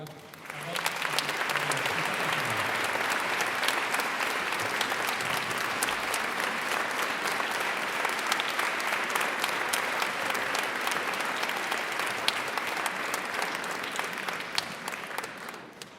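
A large audience applauds a choir after its spring show, a dense, sustained wash of clapping that holds steady for about fifteen seconds, with a few voices at the start before it fades out.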